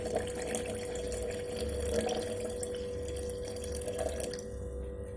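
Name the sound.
water poured into elephant foot yam pickle mixture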